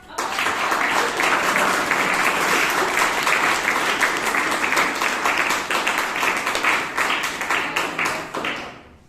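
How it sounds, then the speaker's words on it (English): Audience at a Toastmasters club meeting in Bangalore giving a loud, sustained round of applause, dense continuous clapping that holds steady throughout before tapering off at the very end. "can I have a thunderous round of applause?"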